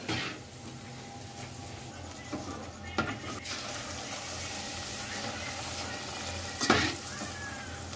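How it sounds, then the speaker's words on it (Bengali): Luchi deep-frying in hot oil gives a low, steady sizzle throughout, with a few louder bursts and crackles, heard alone without talk. "এখন দেখো লুচি ভাজা হচ্ছে"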